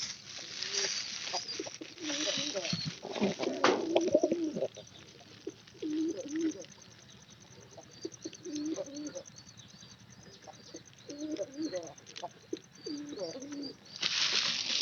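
Pigeons coo in repeated low, rolling phrases inside a pigeon house, moderately close, with scattered chirps and occasional rustling or wing movement between calls.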